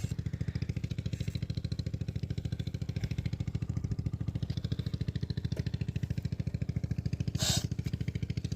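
An engine idles with a fast, steady thumping pulse, running evenly throughout, with a short hiss of air bursting out near the end.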